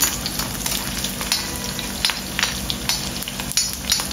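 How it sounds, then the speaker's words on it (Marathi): Small hot green chillies frying in oil, a steady close sizzle with faint crackles and pops running throughout, no talking. "मिरच्या चांगल्या फ्राय होऊ दे याच्यामध्ये।"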